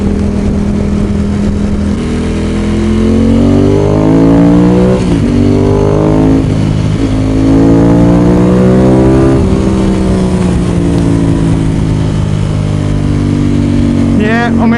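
A Ducati 916 motorcycle engine, loud and close, pulls hard through the gears, its pitch climbing in repeated sweeps with short dips at each shift, while a voice talks over parts of the run.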